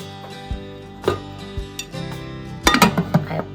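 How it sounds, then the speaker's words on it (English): A lid set down onto a slow cooker in a home kitchen during a slow-cooker pasta recipe: a few quiet handling knocks, then a close, fairly loud cluster of clattering clinks near the end. "I place the lid on the slow cooker"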